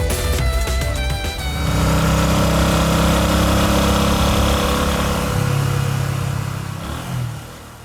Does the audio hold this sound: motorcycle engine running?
yes